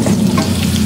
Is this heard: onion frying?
yes